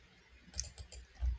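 A few quick, light computer mouse clicks in a quiet room, three soft taps in a row followed by a dull thump.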